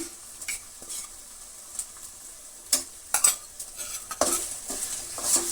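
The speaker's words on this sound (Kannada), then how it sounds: "ಮತ್ತು ನೋಡಿ ಟೊಮೆಟೊ ಸಾಸು ಒಂದು ಮೂರು ಸ್ಪೂನಷ್ಟು ಹಾಕ್ತಾಯಿದ್ದೀನಿ" Tomato sauce goes into a sizzling pan of gobi manchurian rice. Sizzling and frying continue under irregular spoon scrapes and clinks against the pan as the mix is stirred.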